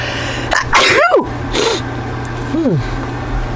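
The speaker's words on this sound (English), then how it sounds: "I'm going to sneeze again" A person sneezes nearby, a sharp burst followed by a short voiced trailing sound, with a second softer vocal outburst a moment later.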